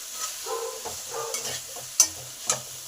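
Cauliflower stalks and mixed vegetables fry with a low sizzle in a pan while being stirred, with scraping stir strokes and two sharper clinks of a utensil against the pan near the end.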